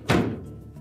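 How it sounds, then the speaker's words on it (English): A GE dishwasher door is pulled open with a single dull thunk near the start, followed by a short fading rattle in a quiet room. "the first thing we should do is open the door up and remove the cutlery basket from the inner door"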